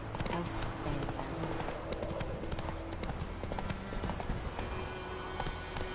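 Roach the horse gallops in The Witcher 3, rapid hoofbeats pounding steadily and close throughout, with a voice talking over them.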